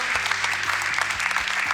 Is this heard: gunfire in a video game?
no